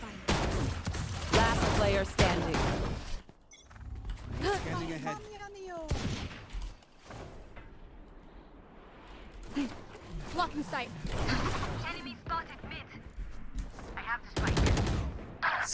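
Gunfire in the video game Valorant: repeated bursts of rapid automatic shots and single loud cracks, close and punchy, mixed with game effects and players talking.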